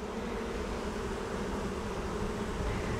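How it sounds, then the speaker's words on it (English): Honey bees swarm around an opened hive and over grass during an inspection, cleaning up spilled honey from removed brace comb. A dense, steady buzz of many bees hums continuously at close range, with no talking. "Still got a lot of bees in the grass, but they're cleaning up that honey"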